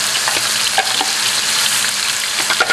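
Oil heating in a wok for Vietnamese tossed eel, a loud, dense, continuous sizzle with faint spatula clinks, close and steady.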